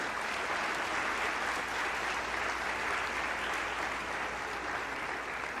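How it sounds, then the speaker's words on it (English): Sustained applause from a crowd, steady and even throughout, with no talking. "Let's hear a round of applause for the award winners."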